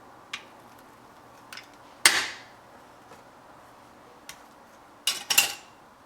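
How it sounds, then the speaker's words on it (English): Metal cookie cutter pressed into hardened dalgona honeycomb candy, giving sharp isolated clicks and crackles, a couple of brief louder snaps near the end, against quiet background. "now quickly press the cookie cutter into the mixture"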